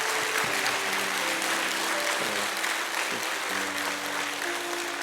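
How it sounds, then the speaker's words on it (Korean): A church congregation applauds together in a steady wash of clapping that lasts the whole time, with soft sustained instrumental tones underneath. "우리 하나님께 영광 감사의 박수 다시 한번 드리겠습니다."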